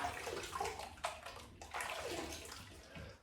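Water sloshes and splashes steadily in a sink-side rinse during a wet shave, a continuous near wash of water running through the whole short stretch with a few louder splashes.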